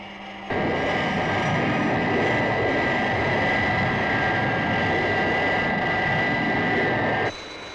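The Fireflash aircraft climbs after takeoff with a loud, sustained jet roar and a steady high whine that starts abruptly and cuts off near the end.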